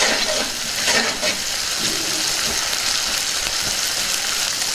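Ginger garlic paste gets stirred into a frying pan for a Telugu-style chicken egg fry, giving a steady hiss of sizzling oil with soft scraping stir strokes, close and continuous.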